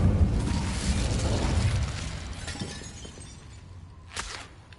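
A burst of Incendio fire spell in the Hogwarts Legacy video game flares loudly with a crackling, shattering whoosh that decays over several seconds, followed by a brief sharp pop near the end.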